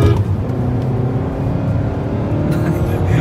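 Heard from inside a modified Tata Nano small car as it accelerates, the engine sends out a steady, dense rumbling drone that continues without a break for the whole stretch. No one speaks.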